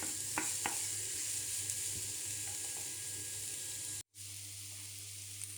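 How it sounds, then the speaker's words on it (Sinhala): Onions tempering in a hot pan give off a steady close sizzle, with a few sharp clicks of stirring early on and a brief cut to near silence before the frying resumes. "මේ විදිහට පොඩ්ඩක් ටෙම්පරාදු කරගන්නවා ලුණු ටික."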